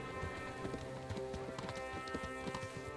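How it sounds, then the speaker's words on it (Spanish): Rapid clip-clop of a horse galloping in the Kingdom Come Deliverance video game, steady hoofbeats layered over a continuous rain-like hiss and rumble, fairly close and constant. "Venga, Capon, métele turbo al caballo"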